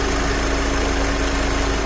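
A warmed-up 2.0 TDI 140 hp diesel in a 2012 VW Touran Cross idles steadily and close by, a constant low rumble with no speech over it.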